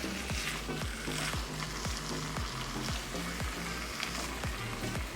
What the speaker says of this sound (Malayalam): നമ്മളിതെല്ലാം നല്ലപോലെ പച്ച ചുവ മാറുന്നത് വരെ വഴറ്റിയെടുക്കണം